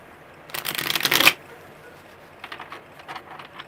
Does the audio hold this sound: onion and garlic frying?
no